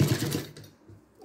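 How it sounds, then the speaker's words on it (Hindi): A sewing machine stitches fabric for an apron in a quick, close burst of rapid needle clatter that fades out after about half a second. "ऐसे करके हम यहाँ सिलाई चलाते रहेंगे।"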